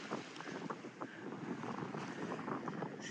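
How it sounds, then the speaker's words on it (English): Wind rushes over a sailboat at sea as it heads for Motril, a steady, breathy roar with mic buffeting, water splashing against the hull and faint creaks, with no voices. "seems to be wind enough."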